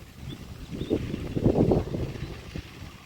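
Low rumbling wind buffets the microphone in uneven gusts across an open field in Sumy region, Ukraine, a steady roar that swells and fades over a few seconds.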